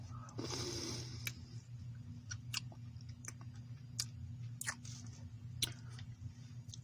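Someone chews crunchy, not fully rehydrated raspberries from a 24-hour ration pack, giving quiet, close, irregular crunches and bites with short pauses between.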